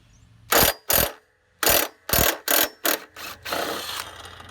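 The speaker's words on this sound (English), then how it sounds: "a little bit of impact from the impact wrench, and that one came off just as easy." A Powerbuilt 20V cordless 1/2-inch impact wrench hammers off a nut in about seven sharp, loud rattling bursts separated by short pauses, ending in a longer, steadier run.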